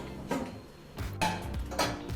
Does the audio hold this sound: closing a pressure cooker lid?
yes